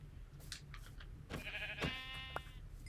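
Sheep bleat in Minecraft, a few short, wavering cries with bright harmonics rising over a steady low game background, fairly close and moderately loud, with no talking.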